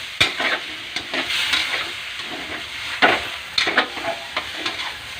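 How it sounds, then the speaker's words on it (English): Pan Canton noodles sizzle and fry in a pan as brandy is poured in and flambéed, with a steady hiss broken by sharp bursts and scraping stirs, close and fairly loud. "Put the brandy in, and then set the pan to flambe."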